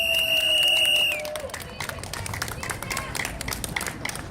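Audience at a Daegu Taegukgi patriotic rally clapping and cheering in a large hall, a dense burst of applause with crowd chatter that follows a sustained tone fading out at the start.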